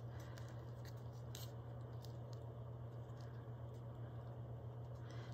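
Scissors snip through a paper envelope at a craft table, a few short, quiet cuts scattered over a steady low hum.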